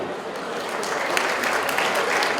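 An audience applauds at a festival of ideas as a speaker is welcomed on stage, a dense, even wash of clapping held steady throughout.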